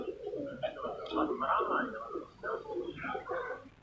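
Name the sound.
Loha breed pigeons cooing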